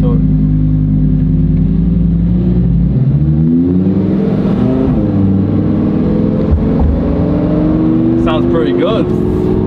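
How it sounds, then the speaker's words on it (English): A Ferrari sports car engine rumbles loudly inside the cabin, with a rising rev and the deep drone of the motor, and voices talk over it. "It's the Ferrari. Let's listen to it."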